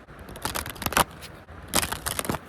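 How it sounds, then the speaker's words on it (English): A deck of tarot-style angel cards being shuffled by hand, two quick bursts of riffling and rapid crisp card slaps separated by a short pause, close and fairly soft, with no talking. "Let's shuffle your deck."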